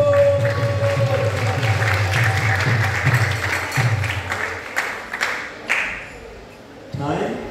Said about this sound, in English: So let us give ourselves a round of applause.